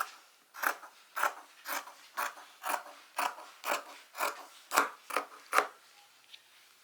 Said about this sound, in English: Cut the fusible fleece.